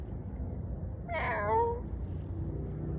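A person vocally imitates a Maine Coon cat, giving one drawn-out, wavering meow that rises and falls at mid-loudness over a steady low background hum.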